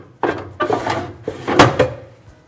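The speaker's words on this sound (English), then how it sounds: "These are the 2 drawers which are provided with the machine." Drawers on a professional engineering machine, one of two supplied with it, slid open and shut in a few distinct wooden-sounding bumps and rolls, close and fairly loud with no talking.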